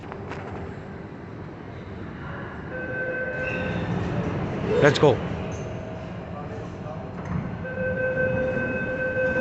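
A metro train rumbles steadily along the track with faint tonal whines and a sharp squeal midway, while people talk over the ride.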